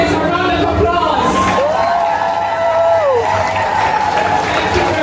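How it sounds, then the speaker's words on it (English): A graduation audience applauds and cheers, steady dense clapping with whoops and crowd babble throughout, a short whistle-like tone rising over it. "let's just give our graduates a round of applause"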